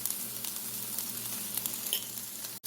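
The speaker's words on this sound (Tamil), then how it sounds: "வெங்காயத்தை வதங்க விடுவோம்." Onions sautéing in a pan with salt, chilli flakes and turmeric, a steady close sizzle and crackle that runs through with a brief dip near the end.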